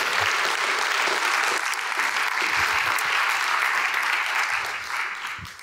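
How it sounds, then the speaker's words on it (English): Audience applause at a church event, a steady wash of clapping from a sizeable crowd that holds for about five seconds before starting to taper off, with no talk over it. "go ahead and give them a round of applause"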